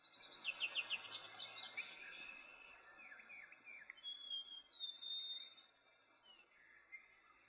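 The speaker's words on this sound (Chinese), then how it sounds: "我们用丛林的环境音效贯穿了整个片段" Jungle ambience with birds chirping and tweeting in quick bright bursts over a soft continuous insect drone, one longer whistled call near the middle, all fairly close and with no voices.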